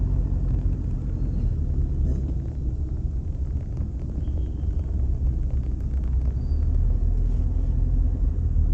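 Road traffic with many cars passing along a street in Vientiane, a steady loud rumble of engines and tyres with wind buffeting the microphone throughout, no talk.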